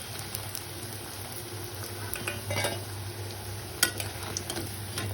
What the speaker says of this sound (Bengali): এইরকম করে পরপর সব বড়াগুলো আমি ভেজে তুলে নিব।